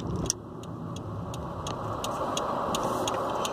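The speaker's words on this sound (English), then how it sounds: "I'm waiting so that I can safely enter traffic" Road traffic passes near a waiting car, with a steady broadband rumble of engines and tires, a faint regular ticking like a turn signal, and a brief louder burst at the start.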